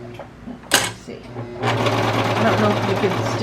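Brother Pacesetter cover stitch machine starting up and running steadily on fabric, a close, even mechanical hum after a few clicks and a sharp clack, with a person talking over it.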